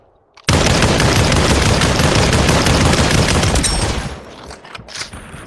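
Rapid, continuous gunfire from a firefight in the VR shooter Population: ONE, a loud dense burst of shots that runs for several seconds before thinning into scattered quieter shots.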